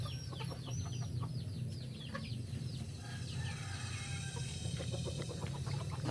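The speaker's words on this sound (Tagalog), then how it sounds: "At dito yung aking inahin na buyo." Backyard chickens, including a hen, clucking in short repeated bursts over a steady low hum, with scattered bird calls throughout.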